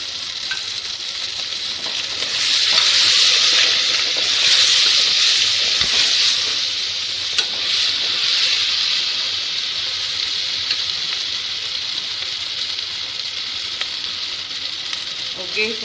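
Steady sizzling of brinjal thokku sautéing in a hot pan, a bright continuous fry with occasional stirring scrapes, strongest early then settling into a softer even hiss.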